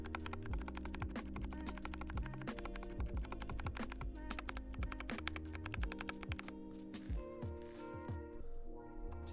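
Steady, dense keystrokes on a Niu Mini 40% keyboard fitted with lubed Kiwi tactile switches, a continuous patter of soft clacks with deeper thunks mixed in, recorded close up without speech.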